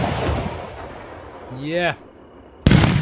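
A Golden Brocade firework shot in the Fireworks Mania game: a rising whistle climbs for a moment, then after a short pause a loud crackling burst erupts close by. A brief voice is heard.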